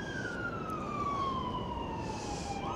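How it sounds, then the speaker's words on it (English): Ambulance siren moving through Blackpool town on a freezing night: a steady, slowly falling wail heard at a distance over constant broad outdoor rumble and wind noise. "Looks like there's an ambulance just going through the town."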